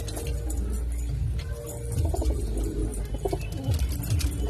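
Pigeons being shown for sale coo and flutter close by, with soft repeated calls over a dense, low background rumble.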